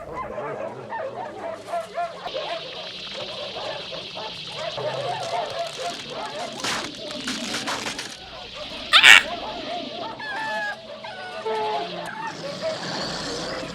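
Dogs bark and whimper at a moderate distance amid busy outdoor background noise and people talking.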